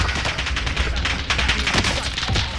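Dense gunfire and rocket blasts in a shooter video game, rapid overlapping shots and bursts packed tightly together, loud and close with no pause.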